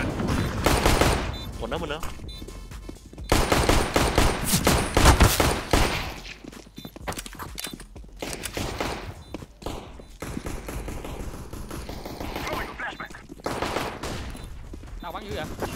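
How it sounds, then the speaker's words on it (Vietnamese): Gunfire on the de_anubis map in Counter-Strike: loud bursts of automatic rifle fire and rapid single shots in dense, choppy volleys that thin into scattered shots, with players talking in between. "Mày xem thử đang bắn nhau."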